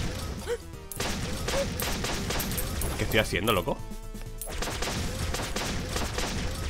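Rapid gunfire in the video game Flinthook crackles in dense bursts and crashes, with someone speaking excitedly over the shooting.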